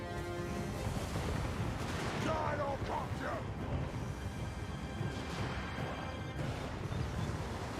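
A gyrobomber bombing run in the fantasy strategy game Total War Warhammer 2, rolling blasts and crashes over a constant battle din, with a voice talking briefly partway through.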